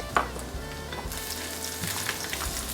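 Chopped garlic fries in a pan for egg fried rice, a steady close hiss and crackle that swells after an initial clatter and carries on without talk.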